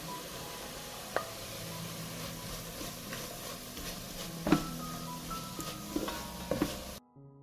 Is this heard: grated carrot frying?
yes